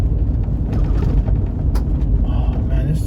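A car on big tires rolls along a dirt road, a steady low rumble of engine and road noise filling the space without letup, close and fairly loud throughout.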